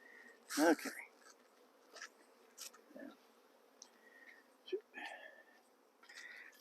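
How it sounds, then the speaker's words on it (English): Honey bees from a swarm buzz faintly and steadily, with bumps and rustles as they are shaken off a cloth. "I took a moment to shake some more bees off of the cloth over there"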